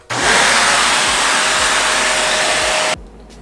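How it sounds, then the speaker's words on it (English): A vacuum cleaner switches on and runs with a loud, steady whine close by for a few seconds before cutting off abruptly. "So I got the vacuum."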